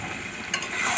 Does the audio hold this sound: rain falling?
no